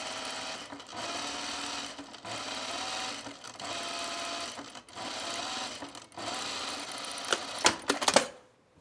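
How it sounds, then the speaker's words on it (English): A sewing machine stitches tucks in a garment, running sluggishly in long whirring bursts broken by brief pauses, ending in a few sharp clicks and clatters, close and loud with no talking. "do you see how my machine's being sluggish right there?"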